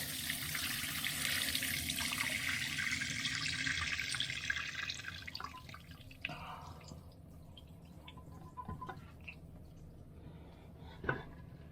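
Buttermilk and butter solids from homemade butter being sieved in a campervan: a steady splashing trickle of liquid fades into scattered drips, close and fairly quiet.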